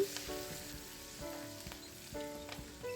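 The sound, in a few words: fresh curry leaves frying in hot oil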